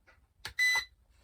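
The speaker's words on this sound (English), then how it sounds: "That beep and these lights, now the drone and remote are paired up." A short electronic beep from a Thunderbolt JET X-2 stunt drone remote pairing with the drone, a single steady tone lasting a fraction of a second, preceded by a brief click in an otherwise quiet setting.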